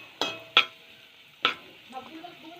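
Garlic and onion being sautéed in a pan, three sharp clatters from the utensil over a faint sizzle, close and short.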